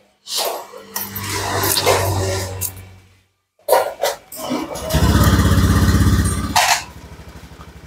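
Fuel-injected motorcycle engine on test, cranked and firing in bursts, stopping briefly, then catching and running with a steady close throbbing idle before cutting out.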